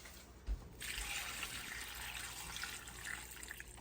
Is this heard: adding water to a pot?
yes